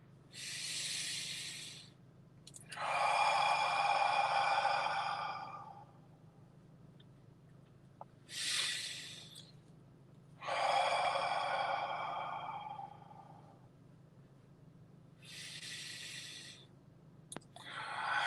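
Slow, deep breaths during a guided meditation, long airy inhales and exhales recurring in steady cycles about every six seconds, close and soft over a quiet low background hum.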